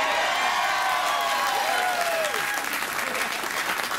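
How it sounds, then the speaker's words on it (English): Studio audience applause on a late-night talk show welcoming Carol Burnett, loud continuous clapping with scattered cheers and whoops, voices talking over it. "The round of applause was appropriate was right there"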